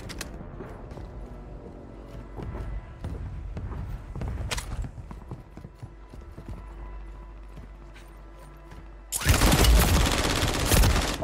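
Gunfire in the video game Warzone 3: scattered shots and scuffling footsteps give way to a sudden loud, dense burst of rapid fire that dominates the last couple of seconds.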